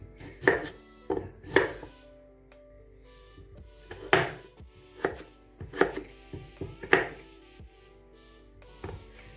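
A single potato being chopped with a kitchen knife, firm irregular knocks of the blade through the flesh onto a board, close and clear, in short bursts of one to three strokes with pauses between.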